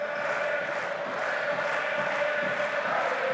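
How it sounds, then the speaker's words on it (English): A rugby crowd in a French Top 14 stadium, La Rochelle against Clermont, roars in a steady, broad, distant wash of cheering that never drops away. "And already the crowd getting behind their team."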